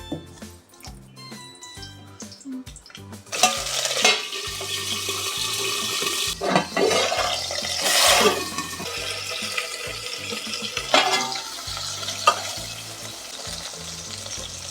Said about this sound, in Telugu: ఇప్పుడు వంకాయ ముక్కలు వేసుకొని నూనెలో వేపుకుందామండి